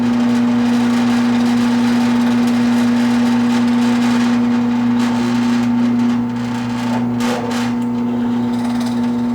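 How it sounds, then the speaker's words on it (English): A Wen 4210 drill press hums steadily as it drills through a piece of wood, with scattered knocks and clatter of the workpiece toward the end, close up and with no talk. "Let's try drilling through this piece of wood."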